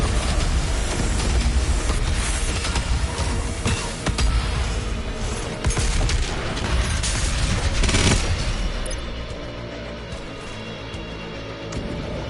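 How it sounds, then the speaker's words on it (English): In Doom Eternal, a rocket launcher fires amid dense combat, heavy booms and blasts piling up over the first eight seconds before the din eases into a quieter rumble, with no talking. "Alright, rocket launcher."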